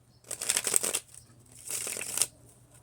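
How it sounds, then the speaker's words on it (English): A deck of playing cards is shuffled in two quick riffling bursts, each a crisp flurry of flicking card edges lasting under a second, close and fairly quiet with a short pause between. "Almost shuffled my deck backwards."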